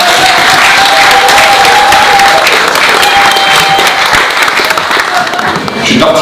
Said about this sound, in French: demander les derniers applaudissements pour Philippe Close.